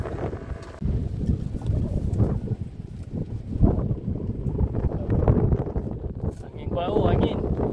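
Strong wind buffets a fishing boat at sea, steady roaring gusts and hull rumble filling the air, with some indistinct activity aboard under the noise.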